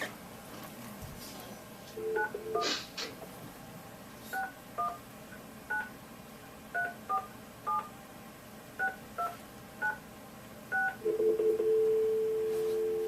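Telephone keypad tones beep out a dialed number, about a dozen short, clear presses in an uneven rhythm, then a steady dial tone at the end, heard over faint room noise.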